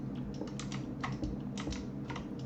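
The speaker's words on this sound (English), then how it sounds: "you're probably hearing my keyboard clacking like obnoxiously." Rapid clacking of a computer keyboard during typing, a quick irregular run of sharp keystrokes sitting close over a low steady background hum.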